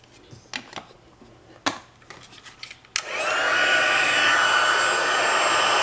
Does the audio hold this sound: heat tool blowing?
yes